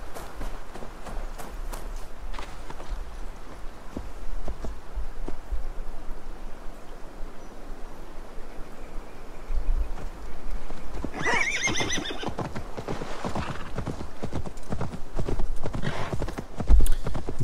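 A horse in the video game Assassin's Creed Valhalla clip-clops along at pace and lets out a loud neigh partway through, over a steady outdoor ambience with a trickling stream in the background.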